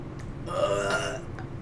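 One person lets out a single close, throaty burp lasting about a second, alone with no talk around it.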